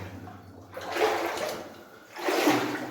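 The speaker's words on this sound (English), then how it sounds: "Something's going on in the water down here. I don't know, it's just water dripping." Water trickles and splashes in a stream at an old goldfield site in New Zealand's North Island, coming in two swelling gurgling bursts with a quieter gap between, close by and free of talk.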